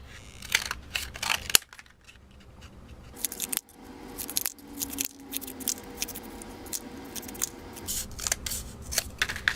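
Scissors snip through a flattened cardboard toilet paper tube along guideline marks, with a run of short crisp cuts and crinkling of the card, close and fairly quiet, with no speech.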